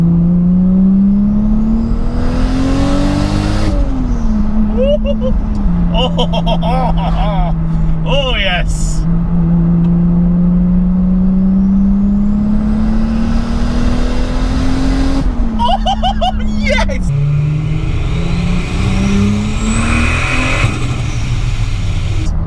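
Lowered Lexus IS200 turbo pulling hard in second gear with a screamer pipe, engine note rising loudly through the revs, turbo whistle and sharp blow-off chatter between pulls, recorded close with someone speaking over it.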